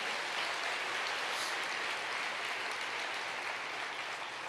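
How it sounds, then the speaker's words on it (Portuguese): A church congregation applauding, a steady wash of many hands clapping together at an even level for the whole stretch, with no voices standing out. "Aplauda ao Senhor Jesus."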